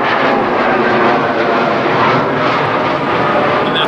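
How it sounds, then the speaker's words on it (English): Aircraft engine roar passing near Virginia Beach, a steady loud broadband rush filling the whole stretch without pause. "And that's where all the jet noise is coming from out here."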